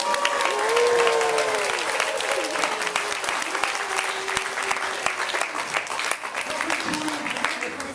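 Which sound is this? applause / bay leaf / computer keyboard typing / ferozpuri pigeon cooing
applause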